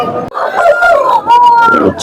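A rooster crows loudly and close by at a weekly sheep and rooster market, one long drawn-out crow with a brief break partway through.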